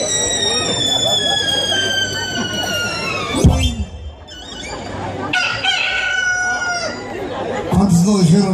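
A man imitating a rooster crows, a long rising-and-falling cock-a-doodle-doo, then Spanish chatter and a second shorter crowing call follow.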